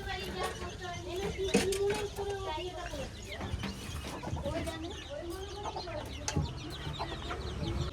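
Chickens clucking at close range around a rural home, irregular repeated clucks under people talking.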